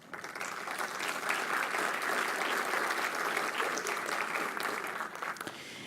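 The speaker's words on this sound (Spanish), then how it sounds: "un cordial y caluroso aplauso de parte de quienes aquí estamos" Conference audience gathered for a talk on elections in Mexico and Spain gives warm, dense applause, a steady, even roar of many hands that holds for several seconds before easing slightly.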